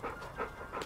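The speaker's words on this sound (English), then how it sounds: "That dog needs to be on a leash." A dog panting in quick, close breaths, three short bursts within a second, with no talking.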